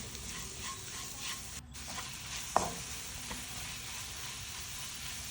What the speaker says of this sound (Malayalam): എന്നിട്ട് നല്ലോണം ഇതിൻ്റെ പച്ചമണം മാറുന്ന വരെ നല്ലോണം ഒന്ന് വഴറ്റിയെടുക്കുക